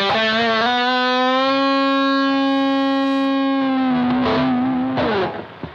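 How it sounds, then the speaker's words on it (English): A single sustained electric guitar note with heavy fuzz distortion from a BOSS GT-1000 Core, buzzy and harmonically rich, ringing for several seconds before breaking up and fading. "Get a bit of fuzz on there."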